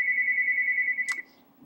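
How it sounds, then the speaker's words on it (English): A phone rings with a steady electronic tone that holds for about a second and then cuts off, followed by a short chirp and near silence. "sorry about the phone."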